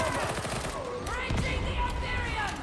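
Gunfire from a stagger-heavy weapon in Warhammer 40,000: Darktide, a dense run of rapid shots up close with impacts, mixed with game effects and a voice talking over it.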